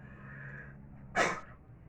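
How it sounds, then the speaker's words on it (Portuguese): A single sharp sneeze bursts out close by over a quiet background hum. "É o espirro do dia."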